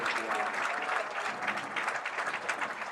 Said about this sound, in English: Big applause for John and Canine Patton.